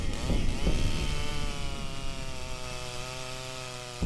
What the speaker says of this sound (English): Here too the chainsaws roar